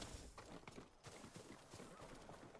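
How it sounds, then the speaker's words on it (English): A farm horse in the video game Ghost of Tsushima clip-clops along at a steady pace, and a whinny rises over the hoofbeats partway through. "Horse seems happy."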